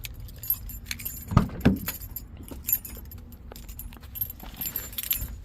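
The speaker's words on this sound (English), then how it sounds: "Get the keys." Nissan 350Z car keys jangle in a few bright, clinking bursts near the listener, followed by scattered lighter rattles and soft handling noises.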